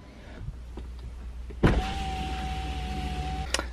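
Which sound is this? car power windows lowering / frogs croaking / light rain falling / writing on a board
car power windows lowering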